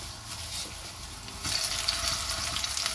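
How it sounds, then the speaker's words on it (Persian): Lula kebab fries in a pan with a steady, close sizzle and crackle of hot oil that grows louder partway through. No one speaks. "کباب در حال سرخ شدن"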